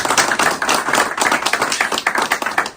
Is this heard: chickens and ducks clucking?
no